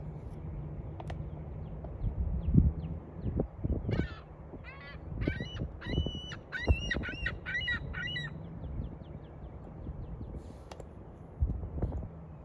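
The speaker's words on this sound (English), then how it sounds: "That was our morning seagull." A seagull calls outdoors in the morning, giving a run of harsh, honking squawks in the middle stretch over steady background rumble and a few low knocks, with no talk.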